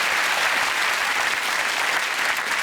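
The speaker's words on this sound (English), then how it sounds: "That's worth a round of applause." A TV studio audience bursts into applause for a sheep shearing champion on a comedy news show, a dense, even wash of clapping that holds steady and fairly full for the whole stretch.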